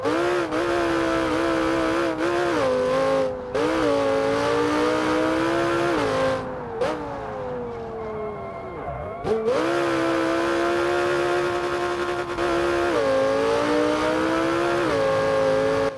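An Audi R8 engine in the video game BeamNG.drive revs and drones steadily, pitch rising and dipping as it accelerates, easing off briefly midway before climbing again.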